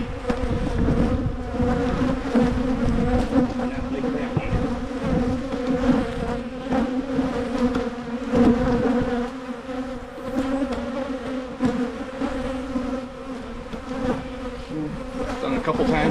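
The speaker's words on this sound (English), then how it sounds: "Pretty good box of bees?" Honey bees buzz loudly and continuously in an opened beehive box during a spring hive inspection, a dense droning hum with individual bees flitting close by and no talking over it.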